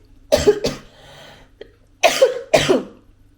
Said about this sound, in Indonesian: Maaf, masih batuk.